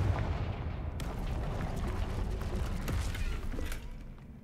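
A Confringo fire spell explosion in the Hogwarts Legacy video game, a burst of crackling blasts and booming rumble lasting a few seconds, loud and close.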